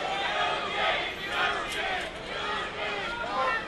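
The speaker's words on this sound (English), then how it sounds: "There's a Eugene chant mounting in that crowd." A wrestling crowd builds a rhythmic chant for Eugene, loud rolling waves of many voices filling the arena.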